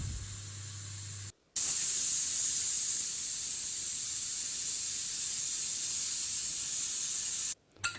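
A pressure cooker cooking rice gruel and beans releases steam in a loud, continuous hiss that cuts out briefly twice before resuming.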